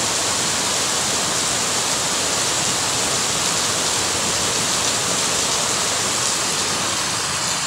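Heavy rain pours in a dense, steady roar that fills the whole stretch without letup, close and loud, with no voices.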